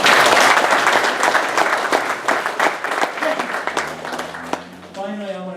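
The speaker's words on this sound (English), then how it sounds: "So I hope you'll give yourselves a round of applause right now." Loud applause from a crowd at a fire and rescue company tanker dedication, fading after a few seconds as a voice begins speaking.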